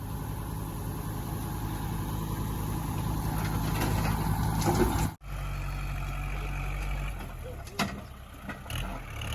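A steady low Kubota L5018 tractor engine rumble idles continuously nearby, with a brief cut midway and faint clanks over the drone.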